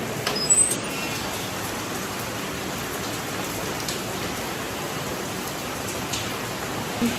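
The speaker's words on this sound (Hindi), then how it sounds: "अब जो है फिर से तेज़ तेज़ बारिश शुरू हो गई" Heavy rain pours down in a steady, dense hiss that runs unbroken throughout, close and enveloping, with a couple of faint knocks and no talking.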